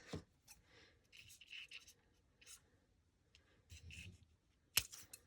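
Scissors cutting through material for a handmade journal cover, a few soft snipping and rustling strokes close by, ending in one sharp louder snip, with quiet pauses between.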